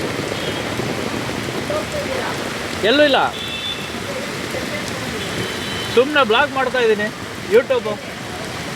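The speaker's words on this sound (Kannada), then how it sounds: "ಮಳೆ ಬರ್ತಾ ಇದೆಯಲ್ಲ" Rain falls steadily in Bangalore, a constant dense hiss on the surroundings, while someone talks close by in short bursts over the downpour.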